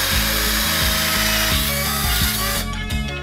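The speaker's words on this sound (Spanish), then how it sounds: "os recomiendo que utilicéis, en este caso, una sierra de corona y el taladro" A drill fitted with a hole saw bores through a piece of vinyl wall paneling, a loud, steady grinding whir that rises and falls over several seconds, with no one speaking.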